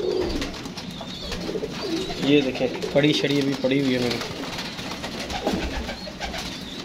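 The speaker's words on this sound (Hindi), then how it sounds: "ये जी हमारा पागल कबूतर" A pigeon named Pagal coos in a home loft, several close throaty rolling coos bunched in the middle while someone talks over them.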